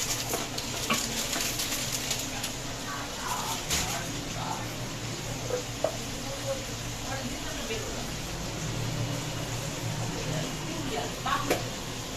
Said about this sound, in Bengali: ওদিকে দেখো মাছের তেল তো অলরেডি ভাজা হচ্ছে